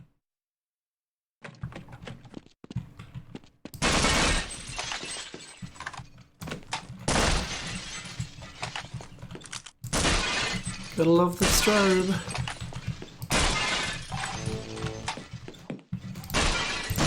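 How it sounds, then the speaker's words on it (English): Glass panes shattering in bursts as they are shot in a first-person shooter map of office cubicles, loud crashing breaks repeating over several seconds, with someone talking between and over them. "all the glass that shatters at the first time you shoot it"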